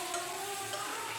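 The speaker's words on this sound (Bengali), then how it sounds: "চিকেনের পিসগুলো এর সাথে যোগ করে দিচ্ছি। একটু নাড়াচাড়া করতে করতে" Mushrooms and boiled chicken pieces frying in a pan while being stirred, a steady close sizzle with soft scraping, no talking.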